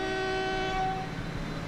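An armored train in the Transport Fever game sounds a steady, sustained horn chord over low rumbling rail noise, loud and close, with no voices.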